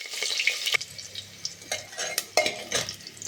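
Onion and chopped green chilli stirred in a frying pan for a cabbage chola dish, giving close, repeated scraping and clinking of a utensil against the pan over a soft sizzle.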